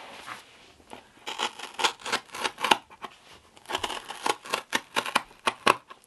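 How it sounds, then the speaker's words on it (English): Scissors snip and crunch through cardboard to cut a hole, a close series of irregular scraping cuts with brief pauses between strokes, moderately loud with no talking. "cut a hole around this cardboard here"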